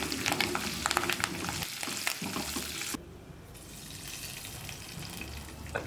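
Cumin seeds, whole dried chillies and curry leaves fry in hot oil for kadhi pakora, a loud crackling sizzle with stirring clinks that abruptly drops to a quieter steady hiss partway through.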